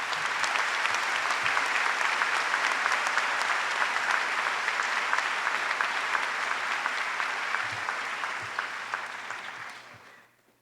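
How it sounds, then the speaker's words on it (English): Graduates clap their hands at a spring commencement ceremony, dense sustained applause from a large crowd that holds steady and then fades out in the last second. "if you're happy and you know it, clap your hands"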